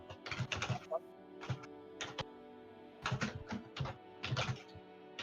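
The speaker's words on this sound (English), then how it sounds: "listening to you tack on your keyboard" Typing on a computer keyboard heard in quick bursts of close key clicks, several clusters of rapid taps separated by short pauses, over a faint steady background hum.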